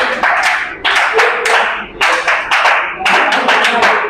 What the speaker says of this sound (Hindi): स्काउट गाइड ताली हो गया